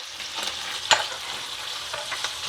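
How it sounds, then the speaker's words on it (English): Ground beef browning in a pan with onions, garlic and peppers for chili gives a steady close sizzle with a few sharp spoon clicks and scrapes as the meat is broken up. "as your ground beef is browning, you want to take your spoon and just cut up the pieces"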